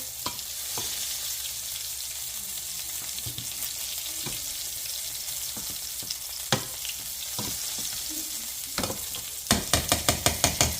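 Cube steak sizzles steadily in melted butter in a pan, a close, even frying hiss with occasional sharp pops, and a quick run of clicking scrapes near the end.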